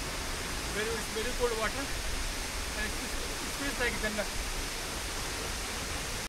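A waterfall at Cherrapunji in Meghalaya roars as a constant broad rush of falling water, steady and fairly loud, while voices murmur faintly in the background.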